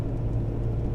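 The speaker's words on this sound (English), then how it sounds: "A lot more road noise" Road noise inside a BMW E46 3 Series while driving, with worn rear tires: a steady low rumble and drone filling the cabin, constant and unbroken for a brief moment, with no talking.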